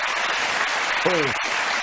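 Clapping in a radio talk show studio: a short burst of steady, noisy hand claps with a brief voice sounding through the middle.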